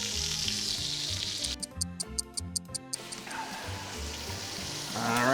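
Beef pieces for boeuf bourguignon browning in a pan, a steady close sizzle throughout, broken midway by a run of sharp ticking clicks before the frying hiss resumes.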